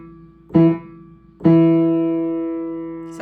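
Piano notes in a rhythm of two short taps followed by one long sustained note, played alone and clearly with nothing else sounding.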